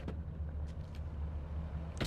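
A car in Grand Theft Auto: San Andreas gives a steady low engine rumble throughout, with faint clicks near the start and a brief louder rustle at the end, and no voices.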